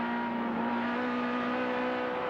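Race cars at Bathurst, a BMW being chased, heard as a steady droning engine roar with a strong constant tone, continuous and fairly distant, no voices.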